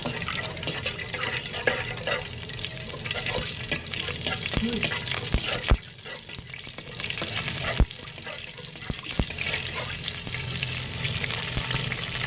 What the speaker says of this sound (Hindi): अब यहाँ पे मैं तड़का लगा रही हूँ। जीरा डाली हूँ